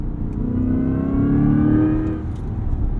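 Chevrolet Corvette E-Ray engine at lower speed, a steady mid-pitched drone with rising harmonics as it builds gently, then eases back, heard continuously from inside the car.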